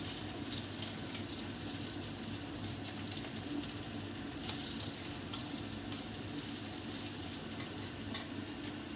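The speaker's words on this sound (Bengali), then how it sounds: "একটু ভেজে নিয়ে তখন আমি মশলাটা অ্যাড করব।" Tomatoes frying in a pan at reduced heat, before spices go in: a steady, close, crackling sizzle with soft stirring clatter, continuous and even throughout.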